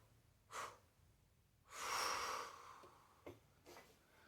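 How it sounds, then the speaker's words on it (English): During a guided meditation, a slow deep breath out rises and fades over about a second, with shorter, softer breaths before and after it, close and quiet. "Breathe in. Hold it. And breathe out 3 breaths out."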